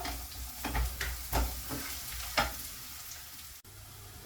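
Chopped small onions fry in a hot pan on a home cooktop, giving a soft, steady sizzle with repeated scrapes and stirring taps, then a sharp knock near the end.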